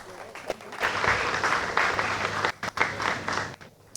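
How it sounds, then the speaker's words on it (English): An audience at a panel session claps to welcome a panelist. The applause swells into a loud, dense patter, with a voice talking over it, then thins out. "A round of applause for her, please."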